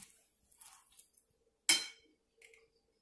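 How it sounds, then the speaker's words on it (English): Potato pancake mix being stirred in a bowl makes soft, scattered scraping sounds and one sharp clink of a utensil against the bowl, with quiet gaps between. "I stir the potato pancake mix again"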